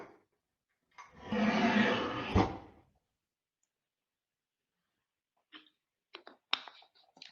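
A drawer in a simulated 3D room slides shut, heard from a distance as a rough sliding rush of about two seconds that ends in a knock, followed after a pause by a few scattered light clicks and taps.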